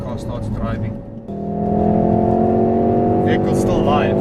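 A car's engine hums steadily and rises as the vehicle pulls away during a carjacking pursuit, a sustained tonal drone that swells after a brief dip, with radio chatter over it.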